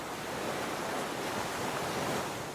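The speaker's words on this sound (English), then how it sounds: "listen to the waves lap onto the shore" Steady ocean surf washing onto a shore, a continuous soft rush of waves with no distinct breaks, heard alone at moderate level.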